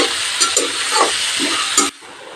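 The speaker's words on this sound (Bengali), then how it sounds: "মিডিয়াম হিটে পেঁয়াজ ভেজে নেব বেশি কড়া ভাজব না" Chopped onions fry on medium heat in a pan for a katla fish curry, giving a steady broadband sizzle with a few soft stirring scrapes before it cuts off sharply near the end.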